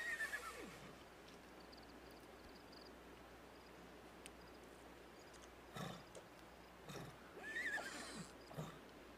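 Horses neighing in The Sims 3, a few whinnies spread across the stretch, moderately loud against a constant game ambience with no talk.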